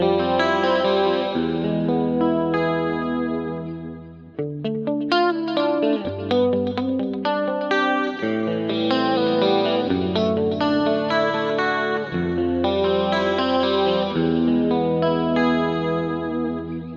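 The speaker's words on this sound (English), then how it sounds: "So for that one, I was using channel 2 and the stereo chorus." Electric guitar played through a Roland JC-120 amp plugin on channel 2 with stereo chorus, strummed chords and picked notes shimmering and swirling with a lush, wide modulation, close and continuous, with no talking.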